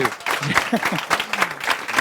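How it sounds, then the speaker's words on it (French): A studio audience applauds Manon at the finale of a cooking competition, with steady crowd clapping and cheering running under a presenter's loud talk throughout. "je voudrais qu'on applaudisse très fort Manon"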